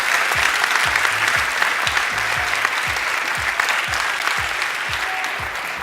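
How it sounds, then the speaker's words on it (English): Sustained applause from a large audience at a university graduation ceremony, steady dense clapping throughout with no pause, fairly loud and filling the hall. "A round of applause, please, for all the graduates of the Embedded Systems track."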